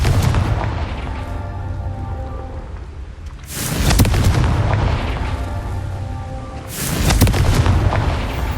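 Fire spell Confringo blasts repeatedly in Hogwarts Legacy: three loud booming explosions a few seconds apart, each a sharp crack followed by a rumbling, crackling tail over a low musical bed.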